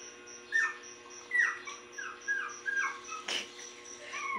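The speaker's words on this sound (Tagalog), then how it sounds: "Meron kaming tuta." A puppy whimpers in a run of short, high, falling whines, about eight of them in quick succession at moderate loudness over a steady background hum.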